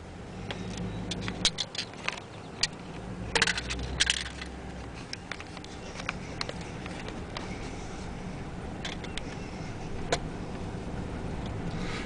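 A car drives across a roughly 100-acre farm property near Lake Cumberland, Kentucky, with a steady engine and road rumble, scattered rattles and bumps throughout, and no voices.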